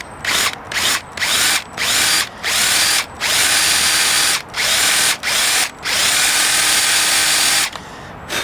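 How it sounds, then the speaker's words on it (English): A power drill set in reverse drives screws into soft wood for a cabin's side doors, whirring loudly and steadily in repeated bursts of a second or so, each separated by a brief pause. "I've got the drill backwards and it will still go in"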